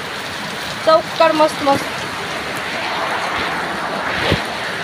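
Rain falling outdoors near a doorway with tulsi plants, a steady broadband hiss throughout, with a person speaking briefly over it early on.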